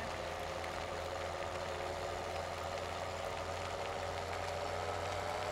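A tractor engine in Farming Simulator 17 pulling a wagon during snow plowing: a steady, low droning hum that holds unbroken throughout and sits at a moderate level with no talk.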